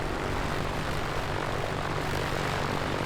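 The A2A Comanche in the MSFS2024 flight simulator game runs its propeller engine at high throttle, a dense, loud, unbroken roar heard from outside the aircraft with no talk.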